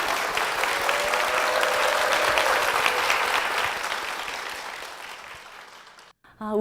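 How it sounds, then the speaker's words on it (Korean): A church audience breaks into sustained applause, loud and broad, fading toward the end before a brief silence and a hint of voice returning. "우리 교회와 담임 목사님을 위해서 다시 한번 큰 박수 부탁드리겠습니다"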